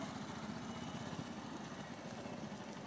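Motorcycle engine running steadily at low revs during tight-turn riding training, a continuous rumbling drone with a gentle pulsing rhythm, fairly close and constant throughout.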